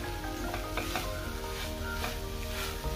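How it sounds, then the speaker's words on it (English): A spoon stirs onion and puffed rice uggani in a pan, a Rayalaseema breakfast dish, making steady scraping and gentle sizzling close by. There is no talk. "So now stir it again, mix well."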